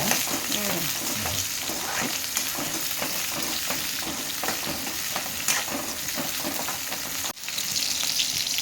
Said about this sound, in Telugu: ఒక ఉల్లిగడ్డ తీసుకున్న, 2 పచ్చిమిరపకాయలు ఫ్రై చేసుకుందాం.